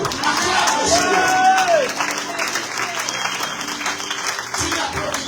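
A church congregation claps loudly and continuously, with crowd voices and shouts mixed in and a voice briefly rising over the applause.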